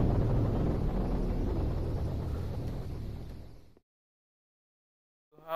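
Low, rumbling aircraft drone from airdrop planes passing overhead at night in the game 7 Days to Die, with wind noise. It is loud and steady, then cuts to silence before a brief sound returns at the end.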